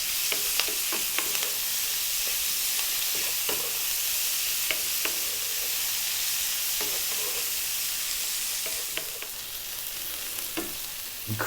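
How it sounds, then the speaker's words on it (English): Sliced onion fries in oil over high heat for a chicken potato curry, with a steady sizzle broken by frequent sharp scraping and stirring clicks, and no talk. "And then we're going to drop in our sliced onion."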